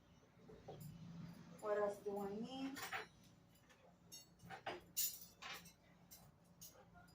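Sturdy silver utensils clinking against dishes at a table setting, scattered light metallic clinks and chimes at close range, with a soft voice talking in between.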